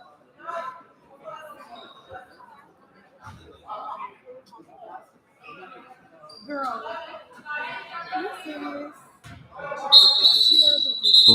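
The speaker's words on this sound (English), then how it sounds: "as a whistle sounds" A referee's whistle blows sharply near the end of play at a basketball game at the Councilman Thomas Classic 2024, coming in after a stretch of commentary and crowd chatter, with a voice still talking over it.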